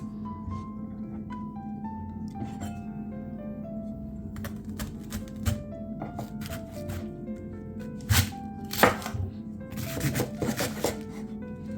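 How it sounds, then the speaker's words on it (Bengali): A knife cutting cabbage at home, a few sharp close taps and scrapes on a board, clustered near the end over a steady low background hum. "এই তো বাঁধাকপিটা আমার কাটা হয়ে গিয়েছে"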